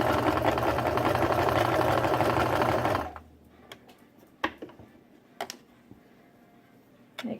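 A sewing machine stitches down the edge of baby leggings fabric in a fast, even mechanical run for about three seconds, then stops, leaving quiet handling clicks and taps.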